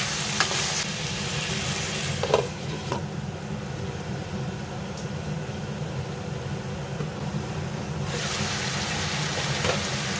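One large capsicum and a bowl of peas fry in a pan for a paneer curry, giving a steady, close, continuous sizzle with a few scraping stirs and no talk.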